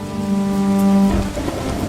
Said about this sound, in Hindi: बारिश फिर शुरू हो जाती है।